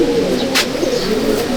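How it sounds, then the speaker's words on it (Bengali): A pigeon coos inside a loft, a continuous low throaty murmur close by, with a brief sharp noise partway through. "এই হচ্ছে পায়রা"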